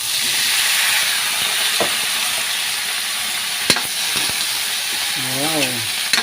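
Eggplant hits a pan of sautéed garlic and onion for adobong talong, and a loud, continuous frying hiss follows, broken by clanks from a stirring utensil. A short voice is heard near the end.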